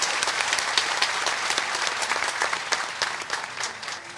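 Applause from a crowd at a Maratha protest gathering over reservations in Jalna, sustained dense clapping that stays steady and fairly loud throughout, with no clear talk over it.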